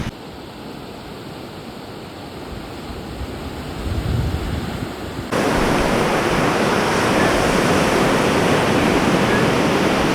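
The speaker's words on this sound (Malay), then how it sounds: "Sekarang ni aku berada di Pantai Maun, Kepulauan Lombok. Kat sini tempat banyak diorang main surfing lah." Sea waves at Pantai Maun beach on Lombok, a surfing spot: a continuous rushing roar of surf that grows louder and fuller partway through, with wind noise and no talking.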